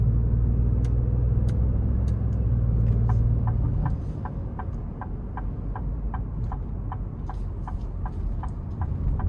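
A 2026 Ford Expedition Platinum in sport mode accelerates, its engine and road noise rumbling steadily inside the cabin, along with a regular series of faint ticking clicks.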